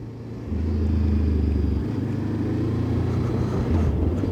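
A Voge 525 DSX motorcycle accelerating in sport mode: a close, loud engine drone that steps up in pitch after a brief lull, changes gear around the middle, then climbs steadily again under wind noise.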